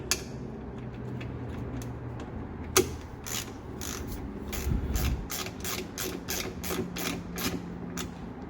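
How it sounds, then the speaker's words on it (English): A ratchet with a 10mm socket snugs down bolts on a Mopar brake air deflector kit on a Dodge Challenger, giving a quick series of sharp, evenly spaced clicks close up, with one louder knock early on. "torque them down with the 10mm"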